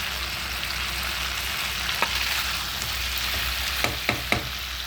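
Potatoes frying in oil in a pan for a vegetarian aloo dum, a steady close sizzle with a few sharp clicks of stirring near the end, no talking.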